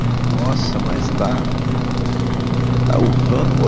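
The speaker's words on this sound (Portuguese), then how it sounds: "Tá urrando o motor." A small truck's engine laboring hard as it climbs a slope in a driving game set on a Puno, Peru map: a steady, loud low drone that never lets up, while someone talks over it.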